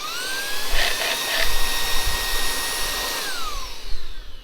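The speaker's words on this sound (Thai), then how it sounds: "ต้องเปิด ตัวเครื่องดูดฝุ่นก่อน" A DeWalt DWH161N cordless vacuum cleaner runs with a steady high motor whine, alone and fairly loud, its pitch sliding down near the end.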